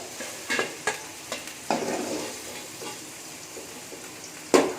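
Frying and stirring in a pan until golden, with intermittent scrapes and clatters of a spoon over a soft sizzle, close by, ending on a louder knock.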